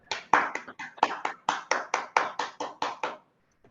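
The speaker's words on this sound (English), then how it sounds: "a round of applause to Toastmaster Archana for that" Clapping in an online Toastmasters meeting for Toastmaster Archana, a single close, rhythmic series of about a dozen hand claps that stops abruptly, with no other sound around it.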